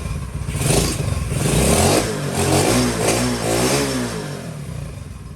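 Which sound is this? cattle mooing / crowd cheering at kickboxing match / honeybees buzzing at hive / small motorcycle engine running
small motorcycle engine running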